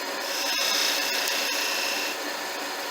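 A skew chisel cutting wood on a spinning lathe gives a steady, fairly loud scraping hiss that holds for the whole stretch with only slight changes in intensity.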